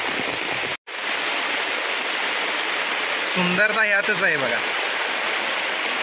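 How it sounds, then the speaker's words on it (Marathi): A small waterfall and streams rushing in heavy rain, a dense continuous roar of water heard close, with a brief dropout near the start and someone talking over the flow partway through. "सुंदर असा आपल्याला छोटासा असा धबधबा पाहायला मिळतो."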